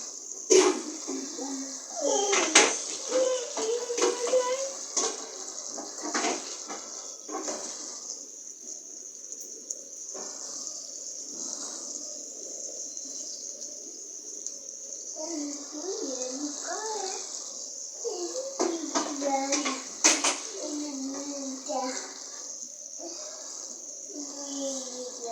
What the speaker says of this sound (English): Washed with cold water.